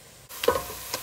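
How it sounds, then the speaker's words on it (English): Chicken thigh pieces dropped into a pan of frying onion, a brief clatter followed by a close, soft sizzle. "Add that to the frying onion."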